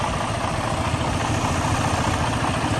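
A loud Detroit DD15 diesel truck engine idles close by with a rough, shaking low rumble from bad compression, constant and unbroken, with no voices.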